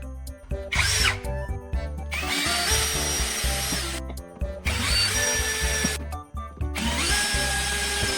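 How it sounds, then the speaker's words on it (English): A power drill whines loudly in several long bursts, boring into plastic pipe with brief pauses between runs. "Drill those 4 holes carefully."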